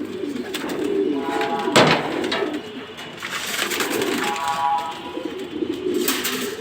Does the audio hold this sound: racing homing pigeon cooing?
yes